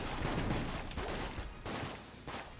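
Rapid, dense gunfire from the video game Enter the Gungeon, a steady fusillade of overlapping shots with no breaks, fairly quiet in the mix.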